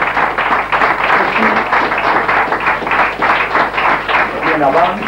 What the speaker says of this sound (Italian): Applaudite.